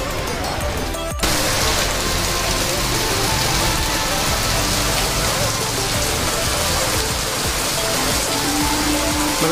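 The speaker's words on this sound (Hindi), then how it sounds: "मतलब बारिश और तेज होती जा रही है," Heavy rain pours down in a busy market street in Aminabad, Lucknow, a dense, loud, continuous hiss of drops on surfaces close by, with a faint voice briefly under it.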